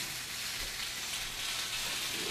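Food sizzles and fries on a stovetop, a faint, continuous hiss with soft crackles, steady throughout and free of voices.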